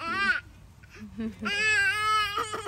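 A baby makes wavering, goat-like bleating cries, one short bleat then a longer drawn-out one, close and fairly clear.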